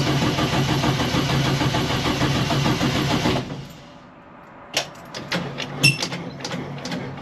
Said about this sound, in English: crank it for a little bit. Gonna have to get that fuel drawn up there.